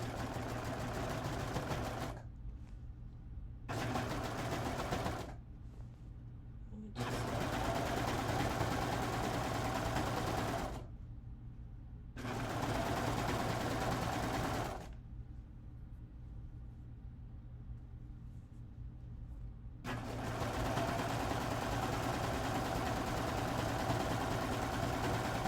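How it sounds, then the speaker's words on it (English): A serger sews the last seam of a child's dress cut down from a woman's dress. Several loud close bursts of steady mechanical whirring are broken by short pauses, with the longest run at the end. "last seam on the serger"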